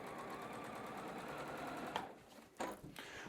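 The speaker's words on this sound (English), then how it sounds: "Sew it on." A sewing machine stitching quilt pieces in chain piecing, a rapid steady close whir of needle strokes that stops briefly and restarts, no talk.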